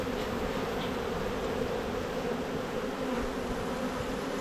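Honey bees buzzing around open hives during a mid-July hive inspection, a dense, steady drone that is close and continuous, with no talk.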